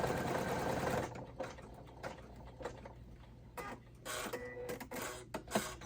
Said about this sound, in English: Let's do this basting stitch. You see how it's now just gliding over those little pocket edges.